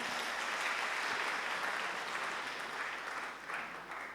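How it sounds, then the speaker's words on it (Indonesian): Dense, continuous applause from an audience at an event, filling the whole stretch and easing off slightly toward the end, with no one talking over it. "Tepuk tangan untuk mereka semua."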